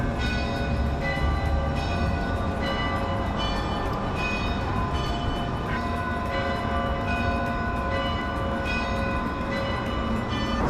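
A metro train rumbles steadily along the tracks with a constant mechanical drone and faint rhythmic clatter, heard from inside a carriage.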